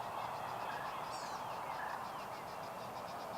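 A wild turkey gobbles faintly in the distance across a road, a brief rattling call over steady outdoor background noise and chirping birds.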